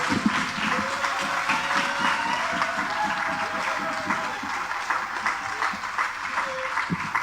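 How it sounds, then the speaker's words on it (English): An audience applauds steadily throughout with dense, fairly close clapping, a voice speaking over it briefly. "Give him a round of applause."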